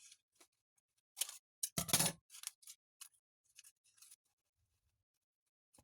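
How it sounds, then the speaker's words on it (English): Scissors snipping crepe paper, a few quick close cuts clustered together in an otherwise quiet room, with faint ticks before and after. "And then I am just going to snip this off."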